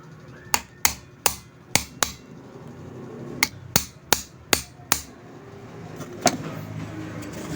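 Sharp metal taps of a hammer on a punch, driven to seat parts of a Westinghouse floor fan: five quick strikes, a pause, then five more and one late tap, close and clear over a faint room hum.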